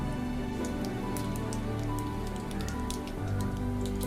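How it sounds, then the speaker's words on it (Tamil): Mustard seeds crackle and pop in hot oil while tempering for a Tamil green peas sundal, a dense, steady spatter of fine sharp pops close by, with no voices. "எண்ணெய் காஞ்சதுக்கப்புறமா கடுகு போட்டு கடுகு பொரிஞ்ச உடனே"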